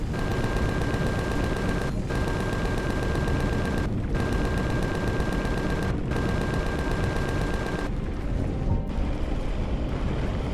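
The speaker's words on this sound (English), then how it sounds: "Rear set gat turret working perfectly though." A rear-mounted gatling turret on a ship in Empyrion Galactic fires a loud, continuous rapid stream of shots, briefly pausing every two seconds before resuming, with no talking.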